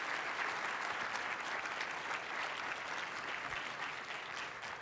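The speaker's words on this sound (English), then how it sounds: "Give them a round of applause for these fellows from the Redefine the Game Institute." Sustained applause from an audience of a community empowerment network's anniversary event, honoring fellows of the Redefine the Game Institute; dense, steady clapping fills the whole stretch without a break.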